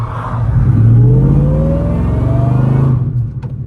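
A car engine revs hard and holds high during a snow donut on brand new tires, its noisy intake whooshing and whirring up close, then the revs drop off and fade.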